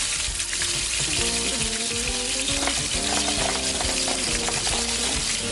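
Seasoned oxtail pieces fry in a hot pan with a steady, loud, dense sizzle that runs throughout, with faint utensil and stirring sounds over it and no talking.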